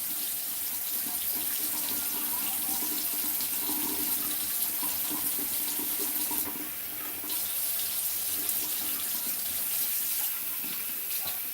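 Tap water runs steadily into a sink during face washing, a continuous close splashing stream that holds for the whole stretch with no talking.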